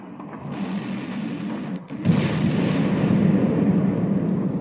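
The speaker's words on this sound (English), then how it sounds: "And suddenly, there was an explosion." A booming explosion sound effect in a World War I battlefield scene with British and Commonwealth soldiers, a deep rumbling blast that swells after a short gap and keeps roaring loudly to the end.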